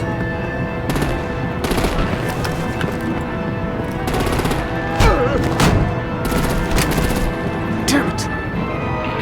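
Gunfire and artillery in a Gotham-set video game battle: bursts of machine-gun fire with scattered heavier booms, loud and continuous, with voices talking over the combat.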